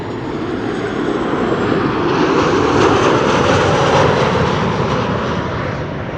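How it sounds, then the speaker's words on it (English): A KLM Boeing 737-800 jet arriving at Amsterdam Schiphol from Dublin, its engine roar swelling to a peak near the middle and easing off, loud and continuous with no voices. "This is KLM, flight 1136 arrival from Dublin. It is a 737-800."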